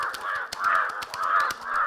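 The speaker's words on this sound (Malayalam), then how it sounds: "അങ്ങനെയിരിക്കെ 2 കാക്കകൾ വഴക്കുണ്ടാക്കുന്നത് കാബിൽ ശ്രദ്ധിച്ചു." Two crows fight, giving a steady series of harsh, rasping caws in quick succession, close and fairly clear.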